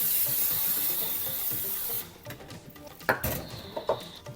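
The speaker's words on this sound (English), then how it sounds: "I'm going to spray this with a little nonstick spray." Nonstick cooking spray hisses steadily onto an air fryer basket for about two seconds, close and loud, followed by quieter clicks and light handling sounds.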